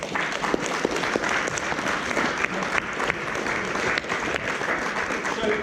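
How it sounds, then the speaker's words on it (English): Applause for youth athletes during a strength and conditioning session, a steady wash of clapping from a group with scattered sharper claps, continuous throughout. "Come on, round of applause there."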